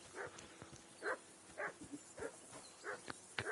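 Repeated barks from a dog in the medieval game Kingdom Come, about half a dozen evenly spaced yaps over a few seconds, fairly faint, with no talk over them.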